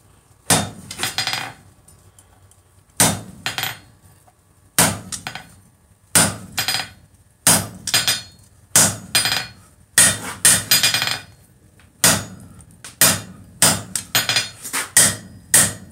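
Hammer edge blows on hot steel while forging a bottle opener: close, sharp metallic strikes in quick clusters of several blows, separated by short pauses, ringing against the anvil.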